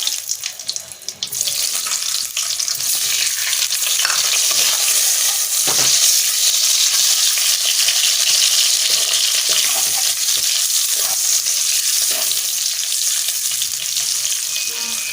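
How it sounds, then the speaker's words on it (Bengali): Eggs fry with a steady sizzle, a running-water wash throughout, broadband and continuous, with a few faint clinks from the pan. "আমি ডিমগুলো খুব সুন্দরভাবে ভেজে নেব"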